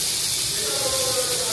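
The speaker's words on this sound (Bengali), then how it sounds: "গরম হয়ে গেছে, এবার চিংড়ি মাছটাই ভেজে নিচ্ছি।" Shrimp sizzle and hiss continuously in hot oil in a pan, a steady bright frying crackle with no voice over it.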